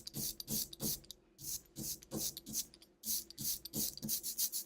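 Sticky printing ink is rolled out with a brayer, giving a quiet, close tacky crackling rasp in repeated back-and-forth strokes, a steady rhythm of short bursts.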